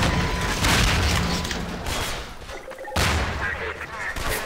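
Gunfire from a pistol-armed fight in Half-Life 2, a dense run of booming shots and blasts with no clear break, a sharp restart near the three-second mark, and loud continuous din throughout.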